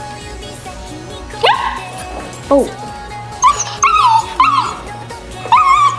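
A young puppy yips and whimpers in high, wavering cries, several short bursts close by, with a brief spoken exclamation mixed in.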